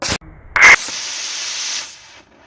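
An Estes model rocket engine fires at launch, a loud rushing hiss that roars for well over a second after a short sharp ignition burst, then fades away.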